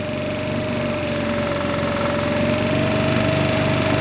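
A small outboard motor on a sailboat runs continuously at a steady pitch, a droning buzz with a rapid mechanical rattle, close and even throughout.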